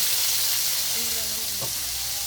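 Onions sauté in a pan for chop suey, a loud, steady close-up sizzle and hiss of frying with a faint stir or scrape partway through; no talking.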